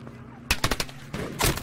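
Gunfire in Battlefield V: a quick burst of several sharp shots after a brief lull, then another louder rattle of fire, fairly close.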